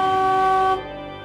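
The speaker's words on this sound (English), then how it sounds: "so this is a flute pipe, or as I've identified it, as a small open diapason" Small open diapason organ flute pipe sounding one steady, bright sustained tone that stops abruptly, leaving a faint lingering ring.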